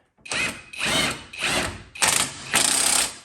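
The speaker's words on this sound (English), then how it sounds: "Now we're gonna take our 17mm socket and we're gonna snug this down." A 17mm socket on a power tool snugs down the lower shock bolt of a 2009-2015 Honda Pilot, giving five short, loud, close whirring bursts with brief pauses between them.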